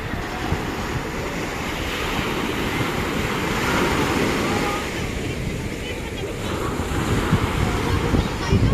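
Sea waves wash steadily onto a beach near Mayon volcano, a continuous broadband surf with wind rumbling against the microphone throughout.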